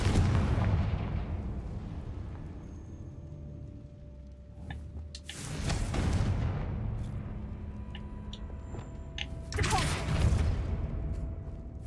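Confringo blast spells go off in the video game Hogwarts Legacy, three heavy booming explosions spaced several seconds apart, each with a crackling burst and a lingering rumble over a busy game background.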